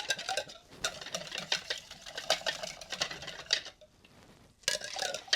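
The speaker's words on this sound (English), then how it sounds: "So I'm going to give each one of these a good stir" Whisk stirring dye in a row of jars for hand-dyeing non-superwash wool mini skeins, a close, busy run of scraping, clinking strokes with a brief pause near the end before it resumes.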